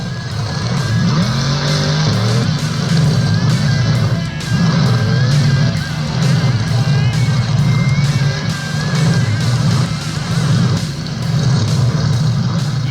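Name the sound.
monster truck engine roaring after a backflip in Monster Jam Steel Titans video game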